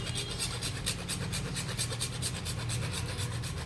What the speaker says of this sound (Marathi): जायफळ किसून घ्यायचं असं असतं घाईमध्ये किसणी उलटी पकडली गेली